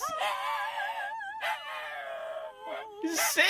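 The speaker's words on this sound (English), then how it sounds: "This is a singing dog. This is a singing puppy." A puppy howls in drawn-out, wavering tones as if singing, several rising and falling wails in a row, close and clear over a quiet indoor background.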